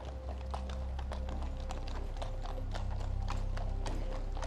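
Hooves clip-clop steadily on a hard London street as mounted police horses walk in a loose rhythm, with a low background rumble.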